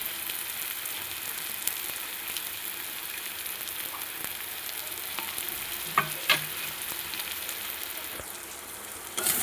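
Spice masala with ginger, garlic, tomato, chilli powder and turmeric sautés in a pan with a soft, continuous sizzle, broken by occasional scraping stirs.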